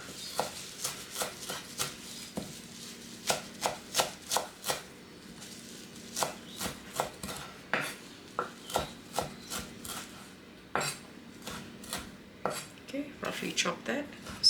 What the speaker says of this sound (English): chop that